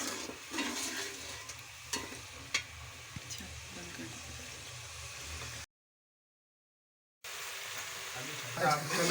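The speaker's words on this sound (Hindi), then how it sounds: "ये हमारी कसूरी मेथी चली गई। अब हमने इसको अच्छे तरीके से भूनना है।" Washed kasuri methi roasts in a pan, a soft steady sizzle with scraping stir strokes, briefly cutting to silence before the frying resumes.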